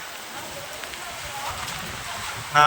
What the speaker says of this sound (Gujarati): વડનગરમાં આપ જોઈ રહ્યા છો વરસાદ.